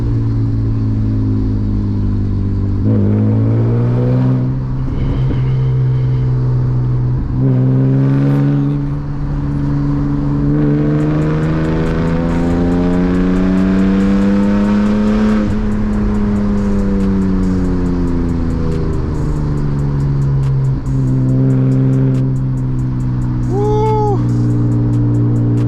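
Manual BMW E36 driven through the hills, its engine roaring loud and close as revs climb and fall through repeated gear changes, a continuous throaty drone with no talking over it.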